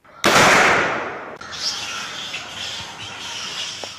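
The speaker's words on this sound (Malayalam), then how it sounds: "ജ്വലിപ്പിക്കുമ്പോഴാണ് വെടിയൊച്ചയ്ക്ക് സമാനമായ ഉഗ്രശബ്ദം ഉണ്ടാകുന്നത്." A single sharp, loud blast from a carbide PVC pipe gun, booming then trailing into a long rumbling echo and outdoor noise.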